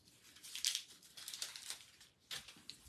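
Plastic packaging crinkles and tears in a steady run of close, quiet rustles and sharp crackles as packages are cut and pulled open by hand.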